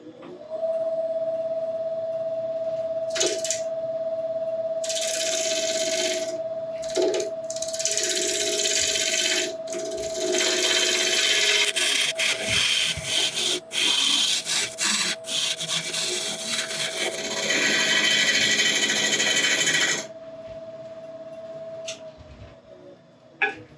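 Wood burl being turned on a lathe, a bright scraping hiss as the tool takes a couple of passes, in several sustained bursts over a steady motor hum that stops near the end.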